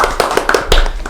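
Hand clapping for a studio guest on a talk show, a short burst of a few sharp, close claps in an uneven rhythm.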